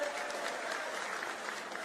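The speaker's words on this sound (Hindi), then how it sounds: "उनके लिए जरा जोरदार तालियों से स्वागत करें।" A crowd at an Indian political gathering claps to welcome Digvijay Singh, a dense, even applause held steadily throughout at moderate distance.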